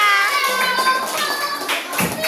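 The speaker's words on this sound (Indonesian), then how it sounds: "Tepuk tangan untuk kelompok ini semuanya" A class of third-grade primary school pupils claps for a group of classmates, a brief burst of scattered hand clapping mixed with children's voices.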